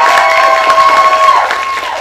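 Stage magic show audience responding with applause and cheering, a dense burst of clapping and crowd noise under a sustained tone, loud and close, fading near the end.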